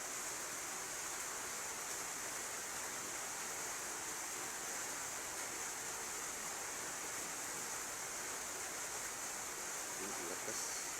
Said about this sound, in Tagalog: Lakas yung tulo